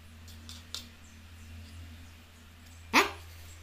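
A dog barks once sharply near the end, with a fainter yelp earlier, over a low steady hum in an indoor room.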